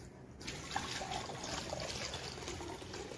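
Water is poured onto cardboard coated with mortar during homemade waterproofing with mortar and PVA glue. It makes a soft, continuous splashing trickle that stays fairly quiet from just after the start to the end.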